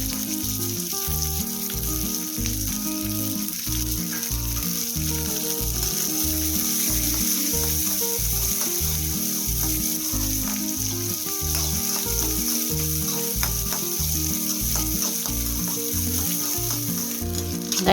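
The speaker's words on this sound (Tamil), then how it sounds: "கருவேப்பிலை, வெங்காயம், பச்சை மிளகாய் எல்லாத்தையும் ஆட் பண்ணி நல்லா வதக்கிடலாம்." Onions, curry leaves and green chillies sauté in a pan for a drumstick-leaf poriyal, giving a loud, constant sizzle. Rhythmic stirring scrapes run steadily underneath, with no talking.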